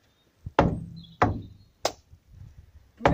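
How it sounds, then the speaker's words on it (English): Stamping feet and hand claps in a repeating stamp, stamp, clap pattern during a folk dance session: sharp, close percussive hits spaced evenly, with a softer shuffle between them. "Stamp, stamp, clap. Stamp, stamp, clap."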